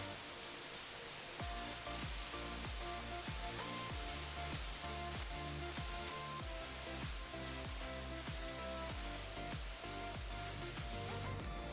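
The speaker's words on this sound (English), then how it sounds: "You're gonna watch me spray." A loud, continuous paint-spray hiss over furniture runs throughout, with a steady rhythmic pulsing of a pump beneath it, close by and unbroken.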